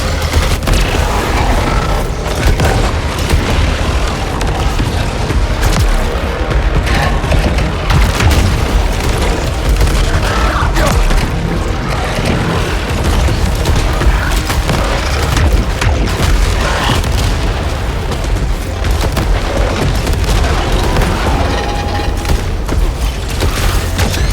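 Bombs explode continuously in the video game Saros, a loud, unbroken barrage of booms and rumbling mechanical crashes that stays intense for the full stretch with no quiet moments.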